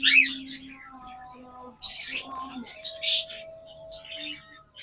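A pair of lovebirds in a bird shop gives several sharp, high chirps and squawks in scattered bursts, mixed with someone talking.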